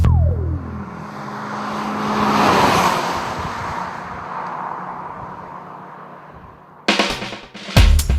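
Citroen C3 1.6 VTi hatchback with a 1600cc engine and 5-speed manual gearbox driving past, a loud engine swell that peaks and slowly fades, followed by rough close bumps.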